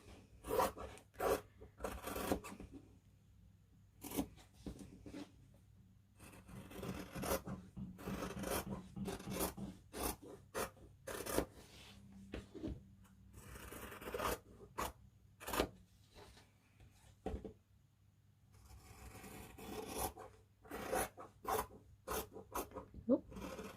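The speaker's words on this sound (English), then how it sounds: "I love cutting out with scissors still." Scissors cutting out fabric pattern pieces for fussy cutting: repeated close rasping snips and rubbing of fabric, irregular in rhythm with short pauses, fairly quiet, with no talking.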